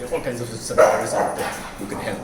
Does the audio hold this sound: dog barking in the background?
yes